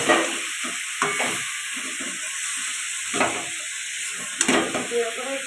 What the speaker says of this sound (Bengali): তেল সব দিয়ে দিয়েছে, এবং মাংসটা আমি দিয়ে দেবো।